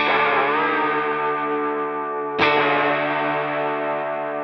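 Electric guitar through an Into The Waves modulating echo pedal, a sustained distorted chord with wavering, shimmering modulation and echo trails, restruck once midway and left ringing loud and dense.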